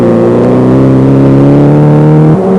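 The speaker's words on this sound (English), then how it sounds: "keep the powerful Volkswagen belting along to finish 12th" A powerful Volkswagen rally car belts along a stage of the Snowline Rally at Ohakune, its engine droning loud and close with a steady harmonic whine that dips briefly near the end as it passes.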